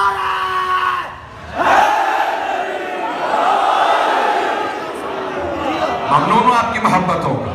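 At a Muharram religious gathering in Lahore, a large crowd shouts back a slogan in a powerful massed roar, with rising swells of voices and a brief dip before the yelling resumes.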